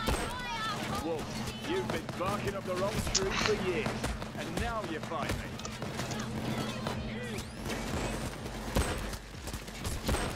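Gunfire rattles through a Payday 2 heist: a dense, continuous mix of rapid shots and impacts mixed with game clutter, while a player talks over it.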